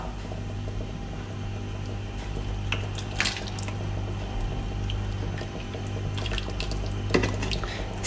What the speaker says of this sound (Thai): ค่อยๆตักน้ำลาดเอาแบบนี้ได้ค่ะเนาะ